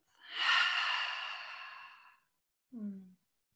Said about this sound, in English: One more breath here. Maybe you exhale out of the mouth.